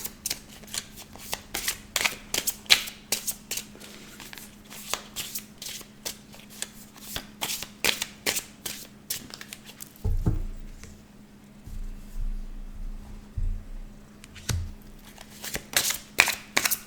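Tarot cards cut and shuffled by hand, a quick run of crisp papery riffles and patters that pauses briefly for a soft rustle and low handling bumps before the rapid shuffling resumes, close and fairly quiet.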